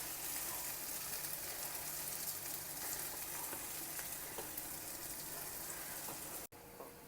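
Small bondas fry in hot oil for a MorKuzhambu, giving a steady, dense sizzle that runs unbroken until a brief cut near the end.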